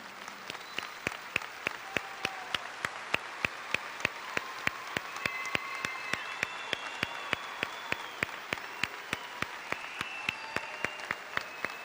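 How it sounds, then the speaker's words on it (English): A graduation audience in a hall applauds a family with steady, fairly faint clapping, a few sharp close claps standing out from the broad crowd applause throughout. "Everyone around here should stand to their feet and applaud this family that is here this"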